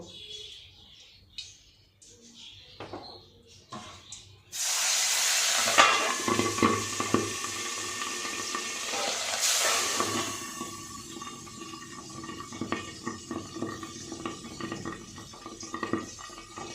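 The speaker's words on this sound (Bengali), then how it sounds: "এবার আমি মাছগুলোকে ভেজে নেব" Pabda fish frying in salted oil: a loud, broad sizzle bursts in after a few seconds of quiet kitchen sounds, then hisses and spits steadily, close up, with no talk.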